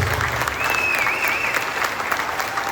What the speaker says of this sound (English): Can we get a big round of applause for our employees?